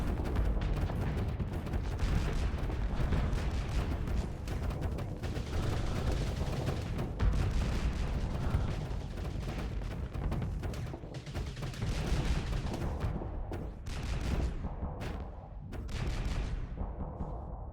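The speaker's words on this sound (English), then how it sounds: "Alright, cannon fire." Heavy cannon fire in the Starsector space combat game: a dense, continuous barrage of booming shots and impacts filling the whole stretch, loud and close, with no talking.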